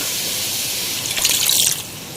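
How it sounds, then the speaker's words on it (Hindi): Water poured into a pan of chicken and fried spices while cooking chicken salan with arvi, a steady hissing splash that swells briefly in the middle, with no talk. "हम यहाँ मसालों को भून के चिकन के साथ इसमें थोड़ा पानी शामिल करेंगे"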